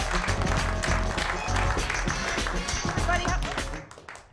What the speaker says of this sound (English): ladies and gentlemen, big round of applause for Trish Cook.